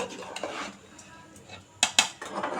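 A metal spoon clinks and scrapes against a pot while a spice and rice mixture for chicken biryani is stirred, giving irregular taps with two sharp knocks near the end, close and moderately loud.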